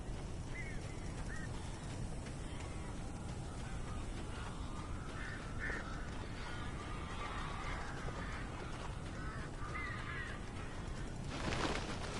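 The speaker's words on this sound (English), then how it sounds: "These birds are weird." Birds in the video game Alan Wake give scattered harsh caws over a dense, noisy game ambience, the calls faint to moderate and spread through the stretch, with a brief louder burst near the end.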